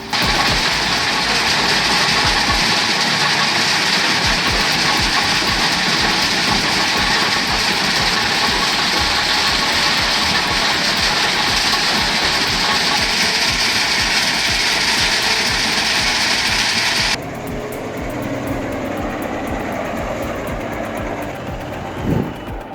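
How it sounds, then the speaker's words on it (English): Heavy oversize truck engine running on a mountain haul, a loud steady mechanical drone with ratcheting clatter that holds for most of the stretch, then drops to a lower, rougher rumble near the end. "That engine growl, pure power, that suspension working overtime"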